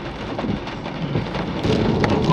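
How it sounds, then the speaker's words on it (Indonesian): Heavy rain during a car journey on a hilly road in West Java, a dense, steady roar of downpour drumming close and loud without pause, no voices. "Kondisi cuacanya masih hujan cukup deras ya"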